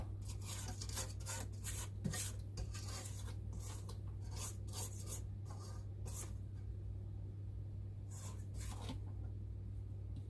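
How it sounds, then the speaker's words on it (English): A spatula scrapes flour off the side of a mixing bowl while snickerdoodle cookie dough is being made, giving repeated quiet rubbing strokes over a steady low mixer hum. "now I'll scrape any of the flour on the side of the bowl"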